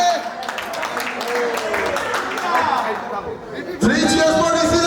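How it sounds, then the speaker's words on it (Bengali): Applause for Shubho at an event, a steady crowd clapping throughout with background chatter and a voice over a microphone. "ফার্স্ট অফ অল একটু জোরে হাততালি হবে শুভর জন্য"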